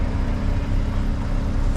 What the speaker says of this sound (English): Now this car should start.